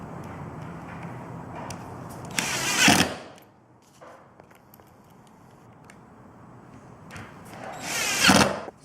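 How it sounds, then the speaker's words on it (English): A power drill drives machine bolts into a wall bed case side, with two short high-pitched whirring bursts separated by quieter gaps of faint handling and tool clicks. "And then fasten it with the machine bolts."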